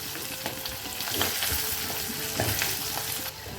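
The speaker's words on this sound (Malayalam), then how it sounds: "ഒരു പച്ചമുളക് ഇട്ട് കൊടുക്കും ഇതൊന്ന് നല്ലതുപോലെ ഒന്ന് വഴഞ്ഞു വെക്കും" Garlic and green chilli sizzle steadily in hot oil with mustard seeds, a dense crackling fry with occasional stirring scrapes, close and continuous throughout with no talking.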